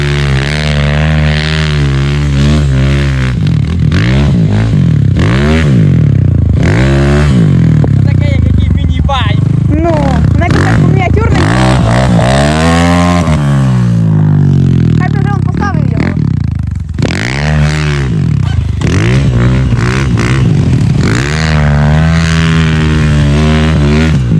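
A Rottor Puncher Lite 250 motorcycle engine roars loudly and continuously on its first ride, its pitch rising and falling as the rider accelerates and shifts gears, with wind rushing throughout.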